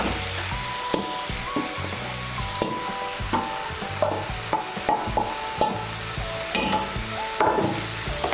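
Fried prawns being stirred with pumpkin in a pan, a low sizzle under repeated scraping and knocking of the spoon against the metal, steady and close with no voices.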